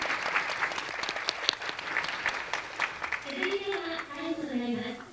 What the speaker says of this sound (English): Once again, please give her a big round of applause.